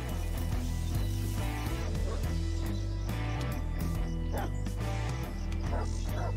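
A dog barks a few times inside a zombie survival video game, set around an RV, over a dense, loud game soundtrack.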